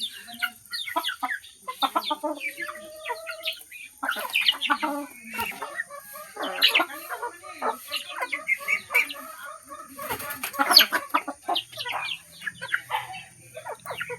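Native chickens cluck and chatter busily at feeding time in a rural yard, overlapping clucks and squawks from several birds close by, continuous and lively throughout, with faint background hiss.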